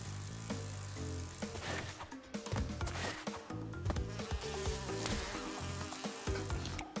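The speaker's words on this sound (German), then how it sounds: "Die Biene entscheidet sich auch, irgendwann mal aufzutauchen." A bee buzzes in the video game Crash Bandicoot 2, a faint, continuous insect drone that runs under game music and sound effects.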